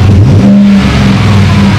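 A modified 4x4 vehicle engine revs loudly up close, a deep throaty rumble with pitch swells, steady and continuous throughout.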